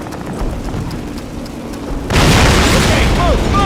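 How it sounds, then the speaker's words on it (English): Planted explosives blow up a German flak panzer in the World War II shooter Call of Duty, a massive booming blast that erupts suddenly after a stretch of battlefield noise and rolls on loud and rumbling. "Plant your explosives and take that flak panzer out."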